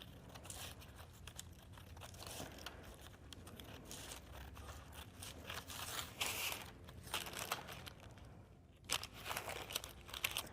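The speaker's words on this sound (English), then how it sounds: "I'm gonna grab my paper scissors and I'm gonna cut these pieces out" Paper being cut with scissors, a quiet series of crisp snips and crinkles with some rustling, close by and continuous.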